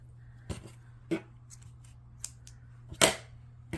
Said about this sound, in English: now you're good to cut your yarns